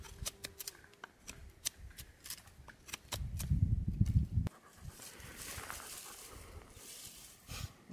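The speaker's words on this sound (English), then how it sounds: "I've processed through all this wood, and I've made a wonderful big pile of shavings here" A knife shaves curls off fat pine wood outdoors, making repeated crisp scraping strokes up close, followed by a louder rough rumble and then a softer rustling stretch.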